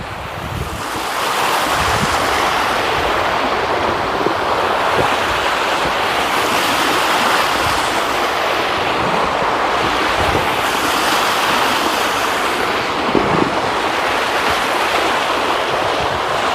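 Meghamalai waterfall pours in a constant, loud, broadband roar that holds steady for the whole stretch with no voices over it.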